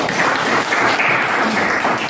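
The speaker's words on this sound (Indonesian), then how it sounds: "Tepuk tangan untuk Rani." A classroom full of people claps steadily and loudly, a dense, even burst of applause lasting a couple of seconds.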